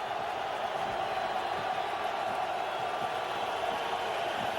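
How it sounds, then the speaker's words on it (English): Stadium crowd noise at the 2002 Raiders-Jets division playoff game, a steady, dense wash of distant murmur and cheering at an even level throughout. "Crowd noise is just not that big right now."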